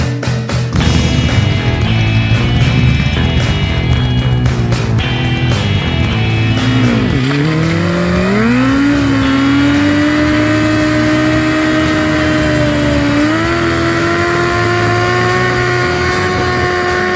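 A hot rod car engine roars loudly and continuously during burnouts, opening with rough revving and then climbing into long sustained high-pitched wails that rise in steps.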